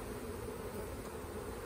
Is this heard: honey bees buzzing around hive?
yes